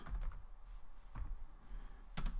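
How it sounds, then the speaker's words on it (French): Typing on a computer keyboard heard close up as a few short bursts of key clicks separated by quiet pauses. "J'ai un clavier"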